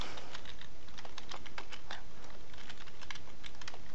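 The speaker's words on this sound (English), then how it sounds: "Now a good hint here would actually be to start typing it." Steady, fairly close typing on a computer keyboard while formatting a Word document, with rapid, irregular key clicks running throughout and no talk.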